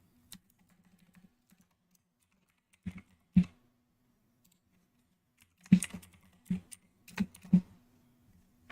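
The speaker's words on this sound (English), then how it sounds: "Oops, I'm typing all that in caps." Someone types on a computer keyboard, making quiet, scattered bursts of clicking keystrokes over a faint low hum.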